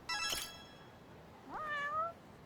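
A cat in the video game Judgment meows twice, first a short harmonic call, then a longer rising meow about a second later, fairly close and clear with no talk over it.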